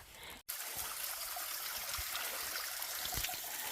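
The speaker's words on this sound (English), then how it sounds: "here's this beautiful, beautiful water source" A small stream trickling steadily at a water source beside a hiking trail, a soft continuous gurgle close by, heard alone after a brief break at the start.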